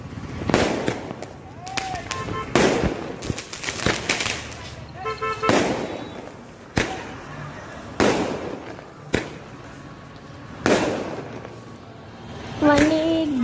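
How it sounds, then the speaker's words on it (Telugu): Sky shot fireworks set off for Diwali burst in the air in a run of sharp, loud bangs at irregular intervals, with crackles and whistles between them and voices talking in the background. "చూడండి, ఈ స్కై షాట్లలో ఒకటి కిందనే పేలింది"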